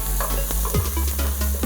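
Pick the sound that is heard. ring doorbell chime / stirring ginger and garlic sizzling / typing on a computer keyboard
stirring ginger and garlic sizzling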